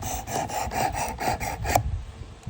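The blade of a vintage USA-made Gerber Sportsman knife scrapes back and forth across a beginner's sharpener in about seven quick, even rasping strokes, close up, then stops.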